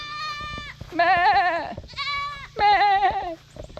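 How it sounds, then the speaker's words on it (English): Goats on a homestead bleat in two loud, wavering calls separated by a pause, each cry harsh and quivering, close to the listener over faint background noise. "Speaking of the goats"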